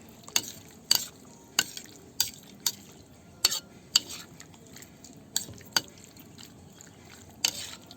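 Seasoned pork for dinuguan being stirred in a pot, with sharp scraping and clanking strokes at an irregular rhythm over a quiet background, close and clear.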